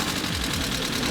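A replacement junkyard engine in a Volkswagen racing car runs steadily at a racetrack, a continuous rough buzzing drone with voices in the background.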